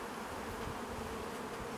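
Honeybees hum in a dense, continuous buzz at an opened urban hive, faint but steady and close, with no voices.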